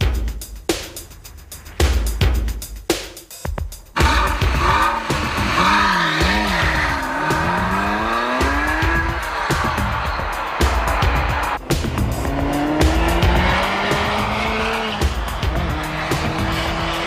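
A 1990 Zender Fact 4 prototype with a carbon-fibre monocoque and a 450-horsepower Audi twin-turbo V8 drives hard, its engine rising and falling through repeated revs with tire squeal, loud and close after a few sharp bursts at the start.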